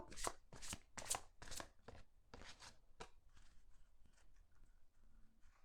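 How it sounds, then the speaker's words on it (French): Tarot cards are shuffled by hand before a card is drawn, making several quick, soft riffling bursts close by that fade into quieter shuffling, with no talking. "Je vais maintenant vous tirer une carte."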